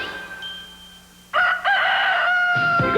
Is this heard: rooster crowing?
yes